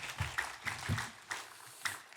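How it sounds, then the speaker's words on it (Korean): Scattered clapping from a church congregation in a large sanctuary, welcoming a pastor, uneven and moderately loud, with a few sharper claps standing out. "목사님 나오실 때 큰 박수로 맞아주시기 바랍니다"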